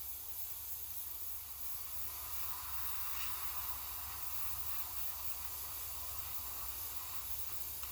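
Spray paint hissing onto an RC car body in a steady continuous stream, fairly soft and unbroken for about eight seconds, with no talking.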